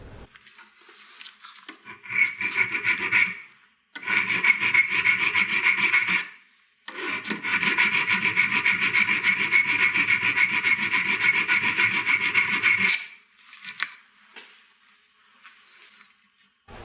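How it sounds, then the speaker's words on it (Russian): A hand file rasps rhythmically against a metal lathe cutting tool, roughening it for soldering, in several long bursts of scraping strokes, close and loud, separated by brief pauses. "создадим небольшую шероховатость с помощью напильничка"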